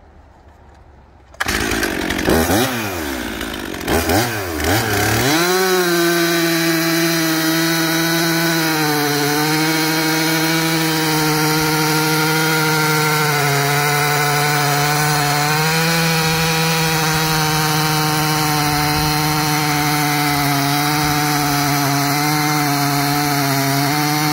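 A saw cuts through poplar wood down to a marked line. The buzzing motor kicks in abruptly, revs unevenly for a few seconds, then settles into a loud, steady whine as it bites through the wood.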